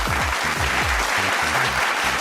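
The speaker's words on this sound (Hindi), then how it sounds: "जोरदार तालियां, बहुत ही अच्छा खेला आपने।" A studio audience claps loudly on a TV reality show while music plays, the dense applause steady throughout.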